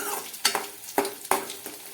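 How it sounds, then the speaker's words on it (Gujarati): Chilli pieces, red chillies and asafoetida sautéing in hot oil, a close steady sizzle with several sharp scraping stirs of a spoon against the pan. "બધી વસ્તુને સારી રીતે સાતળી લઈએ."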